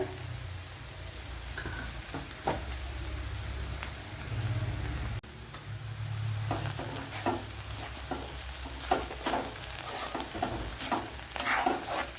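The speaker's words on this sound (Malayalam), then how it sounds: "നല്ലപോലെ മസാല എല്ലടം പിടിക്കത്തക്ക വിധത്തിലൊന്ന് ഇളക്കി യോജിപ്പിച്ച് കൊടുക്കണം" Onion and egg masala is stirred in a hot pan, a spoon scraping in uneven strokes over a constant low sizzle of frying, close and without speech.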